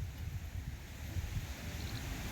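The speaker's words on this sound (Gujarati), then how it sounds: "આવે છે પવન જોરદાર" Strong wind rumbles and buffets the microphone in low gusts, steady and fairly quiet, with no voices.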